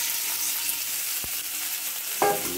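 Potatoes dropped into cumin frying in hot oil for dahi aloo, with a steady close sizzle, a brief soft thump as they go in, then a louder crackling burst and stirring.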